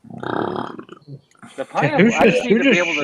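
A loud, deep, rumbling burp from someone who has been eating pineapple rolls out for nearly a second, then someone talks close by right after it.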